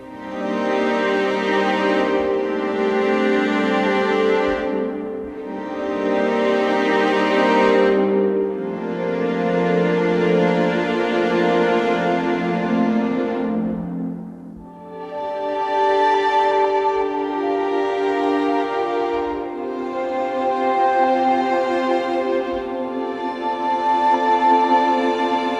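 Zone Matrix multi-layered synth pad voiced with fifth harmonies, swelling and shifting under mod wheel and foot pedal control, sustained and rich with chord changes and a brief dip mid-way.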